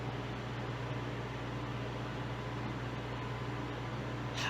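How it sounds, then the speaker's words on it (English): A freeze dryer's vacuum pump runs continuously, giving a steady, even mechanical hum and hiss with a low drone beneath, with no talking. "It says you should hear the vacuum pump turn on."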